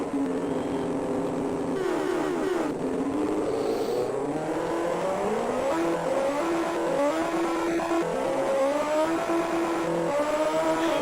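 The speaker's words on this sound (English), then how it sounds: "that sound of your bike, the engine, oh, it fucking goes right through me" A Honda RVF motorcycle engine in a Commodore Amiga racing game drones continuously, its synthesized pitch rising and falling as it revs up and down through the gears, steady and loud with no talk.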